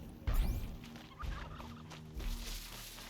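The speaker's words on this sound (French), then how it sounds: "Le dindon!" A turkey gobbles in the video game Horizon Zero Dawn, with three quick bursts of warbling gobbles spaced about a second apart against quiet game ambience, fairly faint and with no talk.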